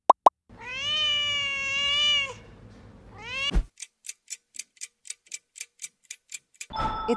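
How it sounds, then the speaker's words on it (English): A cat gives two drawn-out meows, the first long and wavering, the second shorter and rising, followed by the steady ticking of a clock with evenly spaced beats. "It's cat."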